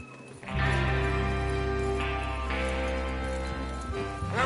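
Horses in Red Dead Redemption 2 setting off together, a steady clip-clop of hooves building over a loud, continuous layer of game music or ambience.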